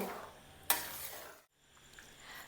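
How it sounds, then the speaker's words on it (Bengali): A spoon works through khichuri and fried peanuts in a pot, scraping and stirring with a soft sizzle, one sharp clack against the metal, then a brief pause before stirring resumes, close and quiet. "এবার ভেজে রাখা বাদাম দিয়ে ভালো করে মিশিয়ে নেব"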